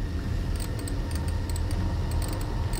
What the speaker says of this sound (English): I don't like this clacking of a typewriter.